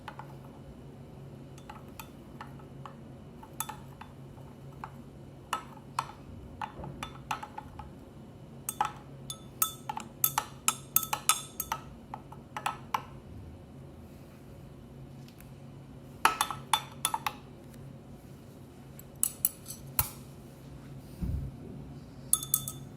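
Glassware clinks and taps in a strawberry DNA extraction as the mixture is stirred, with scattered light chinks in irregular bursts over a low, steady background hum and no talk.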